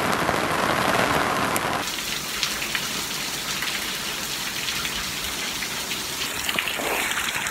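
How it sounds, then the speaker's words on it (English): Steady rain hisses down on concrete, a dense wash of drops close by, heavier at first and then settling into a constant patter. "It started raining."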